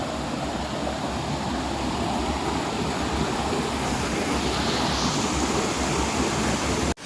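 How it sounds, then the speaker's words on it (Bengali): A forest cascade tumbles over broken rocks, giving a loud, constant roar of rushing water that fills the whole stretch without pause before cutting off abruptly at the end. "সো এই দেখেন ঝর্ণা এদিক দিয়ে, এটা একটা ক্যাসকেড"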